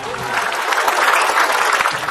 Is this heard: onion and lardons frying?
no